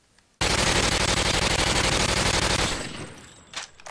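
M240 machine gun fired in a video game: one long, loud, unbroken burst of rapid automatic fire, close and dense, cutting off abruptly and leaving a short fading tail with faint clatter.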